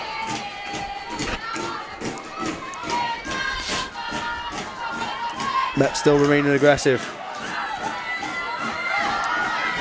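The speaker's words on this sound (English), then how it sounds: "as the crowd ramp up the noise." Crowd at a women's university rugby union match, Cardiff Met against Edinburgh, rising into shouts and cheers as play surges, with thuds and a sharp whistle-like tone midway; commentators talk over much of it.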